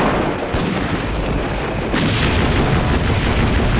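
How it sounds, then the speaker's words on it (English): Bombing-run explosions in the war shooter Vietcong, a loud, dense barrage of overlapping blasts and rumbling booms that continues without a break, no voices over it. "They just bombed the entire map."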